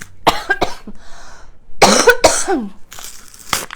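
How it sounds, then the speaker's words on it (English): A few sharp, close coughs come in separate bursts, with quiet gaps between them. "I do not want to start coughing"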